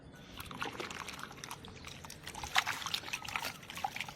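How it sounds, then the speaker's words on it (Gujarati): Water is poured onto soil sown with coriander seeds in an uneven trickle and splash, a quiet run of short wet bursts heard up close. "આપણે આમાં એકાદ ટપ પાણી નાખી દઈએ."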